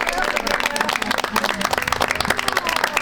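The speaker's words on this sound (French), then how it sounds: "Est-ce que vous pouvez vous applaudir s'il vous plaît?" An audience at a French evangelism gathering applauds, dense loud clapping throughout with crowd noise mixed in.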